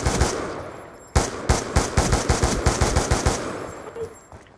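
Select-fire gunshots in the Black Ops 2 video game multiplayer, a single loud shot followed by a rapid, evenly spaced burst of about a dozen sharp reports that fades out, loud and close.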